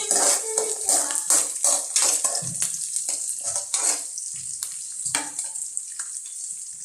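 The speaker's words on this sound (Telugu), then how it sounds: "పల్లీలు వేగాలి." Peanuts frying in a hot pan with oil for wheat rava upma, a steady close crackling sizzle with stirring scrapes throughout.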